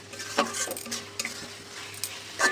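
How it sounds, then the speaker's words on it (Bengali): Fried potato cubes stir-fried with spices in a pan, with repeated spatula scrapes and clinks against the metal over a soft background sizzle, close and alone. "এখন আমি মশলার ভেতরে দিয়ে আলুটা খুব ভালো করে কষিয়ে নেব 1 মিনিটের মতন"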